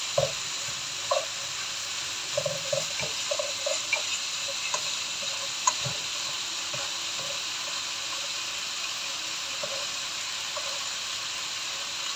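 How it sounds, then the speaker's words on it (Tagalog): Sweet potato tops sauté in a pan with a soft, steady sizzle and scattered light crackles and pops, quiet and close with no talking. "ginigisa-gisa ko lang po muna ito"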